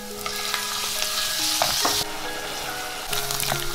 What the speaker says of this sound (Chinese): 把肉粒加进来煸炒